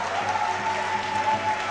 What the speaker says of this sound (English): Lots and lots of cheers for Toine in the crowd, the hometown hero.